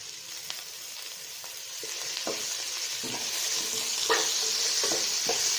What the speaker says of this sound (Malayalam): ഇതെല്ലാം കൂടെ നല്ല ഇളക്കി യോജിപ്പിച്ച് കൊടുക്കണം